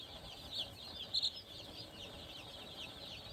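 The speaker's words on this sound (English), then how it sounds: "the last batch of chicks in the brooder here" Small yellow chicks peep faintly in a brooder, soft high chirps scattered over a quiet background.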